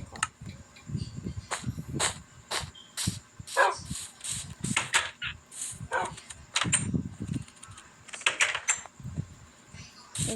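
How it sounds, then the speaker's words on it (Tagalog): Several dogs bark in bursts from a yard or house, loud, close yips and woofs clustering and overlapping, with brief quiet gaps and a door sliding at times. "Kung napapansin nyo na madami akong aso, ay huwag mong pansin."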